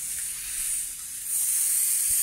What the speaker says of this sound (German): Während hier die Kaffeemaschine brummt.